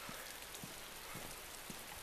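Steady rain in the DayZ survival game, a dense even hiss of falling drops with faint low patter, constant throughout and heard alone without voices.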